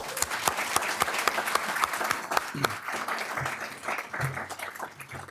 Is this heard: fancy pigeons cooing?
no